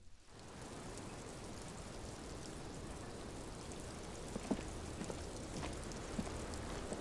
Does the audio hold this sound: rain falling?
yes